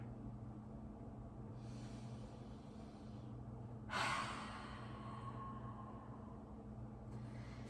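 During a yoga forward fold in a full-body stretch, a single audible exhale rushes out midway, close but quiet against a low steady background hum, with no talking.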